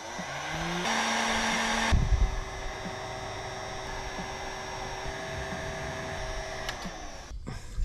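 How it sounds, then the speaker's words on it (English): A heat gun runs with a steady whirring blow while shrinking pink heat-shrink casing on crimp connectors for 12V van wiring, a brief louder burst early on before the hum settles and cuts off near the end. "I'm just going to stick them under the heat gun, and that will melt this pink casing around it"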